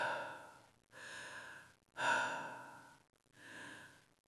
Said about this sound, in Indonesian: Suara napas. Dalam-dalam, berat, seakan dada seseorang sesak.